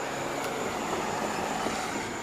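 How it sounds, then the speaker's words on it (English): Train on railroad tracks, a steady, fairly loud rumbling wash of rolling noise with no clear breaks, heard without talk. "Yeah, there's a train over there."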